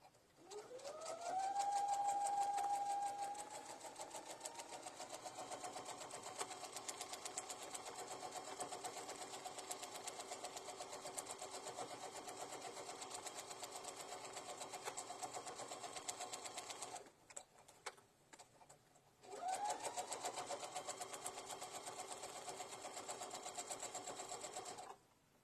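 Domestic sewing machine stitching a quilt, a steady whirring run that pauses briefly near the end and then starts up again, close and fairly quiet.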